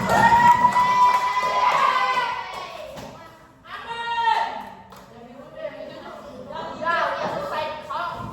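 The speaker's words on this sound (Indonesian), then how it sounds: "Oke, tepuk tangan buat kelompok berlima aja. Tepuk tangan, panas." Students in a year-8 classroom cheering and shouting, with scattered clapping and thumps, loud at first then dipping before bursts of children's voices return.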